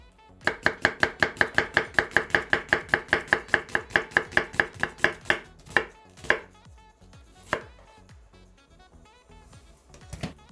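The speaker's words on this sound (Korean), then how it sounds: "4분의 1 사이즈의 양파를 다져주세요." A quarter of a medium onion being minced with a knife on a board: rapid, even, loud chops in a quick run that slows into a few scattered strikes near the end, with no voices.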